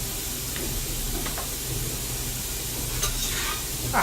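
Onions and minced garlic sizzle in a pan for BBQ chili while being stirred, a constant close hiss with occasional soft scrapes of the spoon and no speech.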